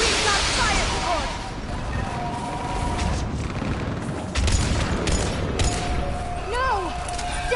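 Fire support in Mass Effect 3 sends bursts of gunfire and booming explosions across a battlefield, continuous and fairly loud, with voices shouting over the combat.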